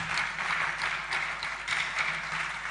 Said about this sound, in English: Please, can we give him a round of applause as he takes the podium?